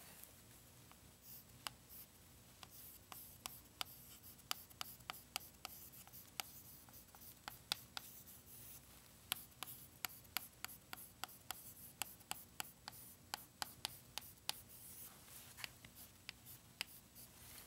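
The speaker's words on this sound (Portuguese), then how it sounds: "vou escrever aqui o nosso resultado" A pen scratches out a written result during an arithmetic lesson, with faint, irregular ticks and strokes over near-silence and no talk.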